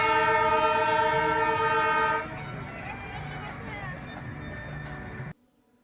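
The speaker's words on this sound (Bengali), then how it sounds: "এটা বাতাসিয়া লুপ থেকে দেখা যাচ্ছে টয় ট্রেন।" The Darjeeling toy train, watched from Batasia Loop, sounds a loud, sustained horn for about two seconds, then its running rumble carries on more quietly before cutting off abruptly.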